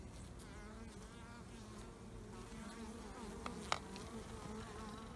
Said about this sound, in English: Bees all crowded underneath.